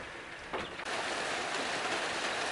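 A heavy rain downpour hisses loud and steady, with a brief shift in texture near the start before the dense wash settles in.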